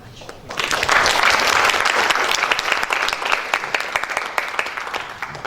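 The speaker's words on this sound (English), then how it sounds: "Big applause again to Bezi." Sustained applause from a conference audience at the RBB Summit 2018 in Batam swells quickly after a brief pause, holding as a dense wash of clapping before gradually thinning, with a voice faintly audible beneath it.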